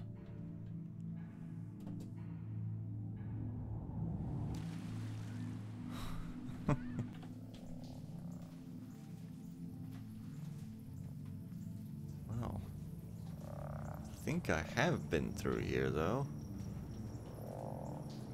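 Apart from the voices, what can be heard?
weird frog croaking sounds in the video game Antichamber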